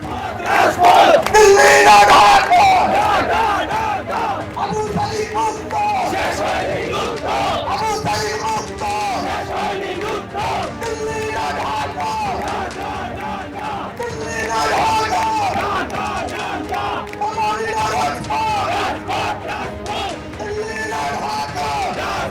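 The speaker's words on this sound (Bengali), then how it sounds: "আজকে মার্চ ফর ইউনিটি থেকে উঠল ভারত বিরোধী স্লোগান" A large crowd at a March for Unity rally chants anti-India slogans in loud, rhythmic unison, voices rising and falling in repeated phrases throughout.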